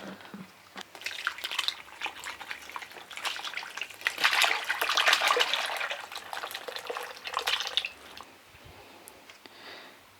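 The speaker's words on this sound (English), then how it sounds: "And we're gonna pour the second bucket in here." Elderflower cordial poured from a bucket into a pot, a sloshing, splashing stream of liquid that swells to a full gush in the middle and tapers off to drips at the end, close and alone.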